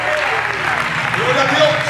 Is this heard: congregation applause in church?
yes